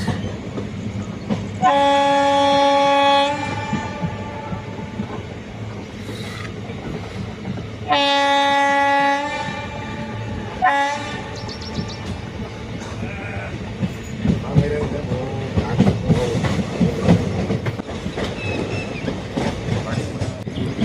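A train rumbles steadily along the tracks on a foggy day approaching Alakudi station, its horn blaring loudly in three long blasts early on, followed by continued rattling and clacking of the wagons.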